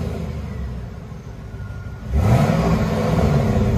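Chevy Camaro Z/28 convertible with a 5.7L V8 and dual Flowmaster Outlaw mufflers, idling low, then the engine revs up into a louder, deep rising exhaust roar that holds steady.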